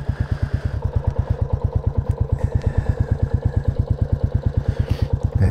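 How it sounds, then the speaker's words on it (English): A motorcycle engine thumps steadily while riding on a road past trees, a loud, even, rapid pulsing beat close to the rider that runs throughout with a faint whistling fuel pump above it. "And she just happily thumps along. You're such a lovely motorcycle."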